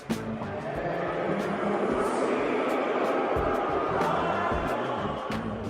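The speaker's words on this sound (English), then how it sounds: "Canadians booing the American national anthem in hockey games." A Canadian hockey arena crowd boos during the American national anthem, a continuous, dense roar of massed voices filling the whole stretch without letting up.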